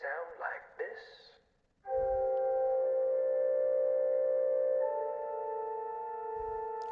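Organ music from the video game Kentucky Route Zero: after a brief burst of voices, a sustained organ chord rings steadily for several seconds, shifting pitch once partway through.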